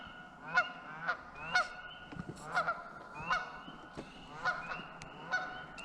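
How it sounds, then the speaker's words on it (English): Canada geese honk again and again from across the water, steady overlapping calls of moderate loudness, no talking. "Got some Canadian geese over there making noise"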